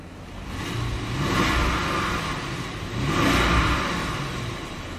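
A 2013 Bentley Mulsanne Mulliner revs twice, its engine swelling and settling in two smooth, loud surges, with a deep, steady exhaust note throughout and no voices.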